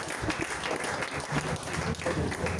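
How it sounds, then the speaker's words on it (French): A church congregation claps together in a dense, steady patter of applause that carries on throughout, with faint voices mixed in underneath. "Clap for the Lord."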